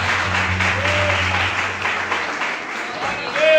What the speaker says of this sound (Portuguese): As palmas bem mais fortes porque é pra gente